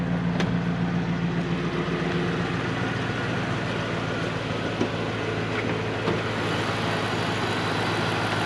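A 2003 Mustang SVT Cobra V8 engine idles with a deep, steady rumble, low and even, with a faint hiss on top and no talking.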